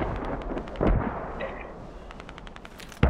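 A mortar fires a smoke round in a military shooter game, with a dull low boom near the start and another sharp blast at the end over distant gunfire crackle and a low rumbling background.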